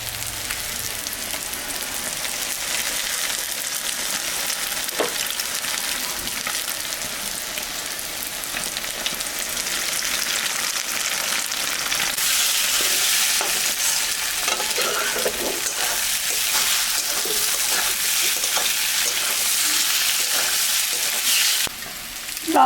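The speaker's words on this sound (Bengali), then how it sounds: "আমি এখন ডিমটা ফাটায়ে দিয়ে দেব।" An egg fries in a hot pan with a steady, close sizzle and crackle that swells louder partway through and carries on throughout.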